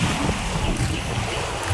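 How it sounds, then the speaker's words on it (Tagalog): Strong wind buffets the microphone in a steady roar on a beach shoreline in Bacacay, Albay, with waves and surf rumbling underneath throughout. "grabe talaga ang hangin"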